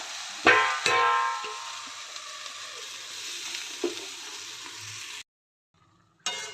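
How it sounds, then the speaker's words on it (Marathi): Fenugreek leaves with masoor dal sizzle in a pan, opening with a couple of sharp clanks from the utensil and then a steady close hiss with an occasional stir, before the sound cuts to near silence and briefly returns. "मेथी चांगलं मिक्स करून घेऊया"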